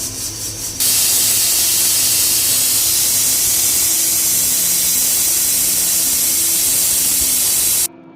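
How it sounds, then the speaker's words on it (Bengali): A pressure cooker of mutton lets out a loud, close, steady hiss of escaping steam that starts abruptly, holds for about seven seconds and cuts off sharply. "এই যে এখন আমি প্রেসার কুকারে দিয়ে দিয়েছি আর কিছুক্ষণের মধ্যে প্রেসার কুকারে সিটিও দিয়ে দেব"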